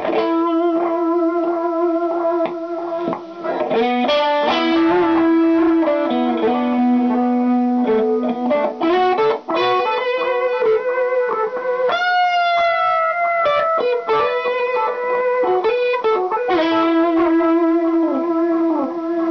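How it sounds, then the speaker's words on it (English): Electric guitar through a Granville Ridiculous Echo Mechanism quad delay pedal with heavy distortion, echoing repeats, notes ringing and trailing into one another in a continuous, loud phrase. "You could add some distortion."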